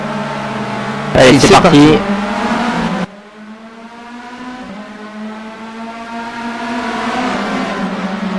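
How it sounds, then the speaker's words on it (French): Race car engines at the start of a race at Magny-Cours, roaring loudly in a short burst, then settling into steady droning revs, with someone speaking briefly over the noise. "Les moteurs grondent, ça va être le départ."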